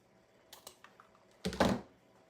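Fiskars scissors cut a 27-inch piece of ribbon: a few light clicks followed by one longer, louder snipping swish, close and quiet.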